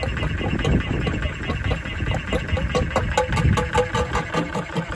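An electric pump runs steadily while emptying a narrowboat marine toilet, a continuous loud mechanical whir with faint rattles and clicks close by.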